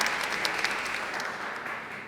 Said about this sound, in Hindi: तालियां डीनो की।